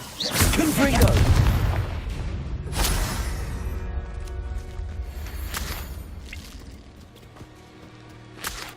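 A Confringo blasting spell erupts in the Hogwarts Legacy video game with a loud opening boom and rumble, followed by scattered sharp cracks and a long fading tail of debris and ringing tones.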